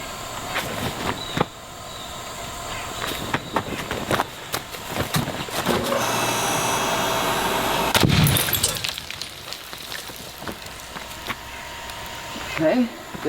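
Copper cable lugs bursting under a huge current surge from 400 car batteries wired together, heard as a long sustained roaring crackle with sharp bangs and a strong burst near the end of the rush, loud and close.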